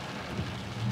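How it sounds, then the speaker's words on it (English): Steady rain falls on a car stuck in flooded standstill traffic on a road with no drainage, a dense continuous patter with a few low rumbles, no voices. "But the rain is lightening up."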